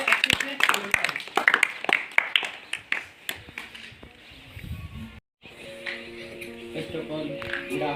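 Audience clapping welcomes a Class 10 student speaker at a school New Year welcome programme, dense hand claps over the first few seconds before fading out, followed by a short gap and a hum.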